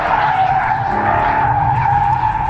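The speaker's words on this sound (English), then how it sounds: "high yaw events, or basically what we like to call drifting" A Hyundai Genesis Coupe drifts with its tires skidding in a loud, sustained squeal over the engine's roar, holding steady and close for a couple of seconds.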